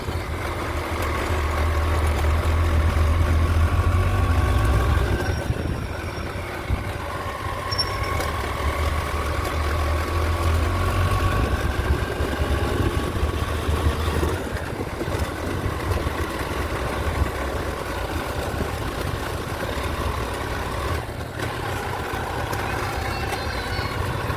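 A car's engine hums steadily as it drives up toward the Kanifnath temple at Bhopgaon near Pune, a continuous moderate drone that swells slightly near the start and then runs evenly for about twenty seconds, with no one speaking.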